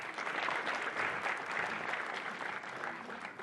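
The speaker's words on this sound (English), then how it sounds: "round of applause for Fred" Studio audience applause rolls on steadily, a soft, even wash of many hands clapping at low level for a few seconds.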